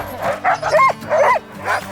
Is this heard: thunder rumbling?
no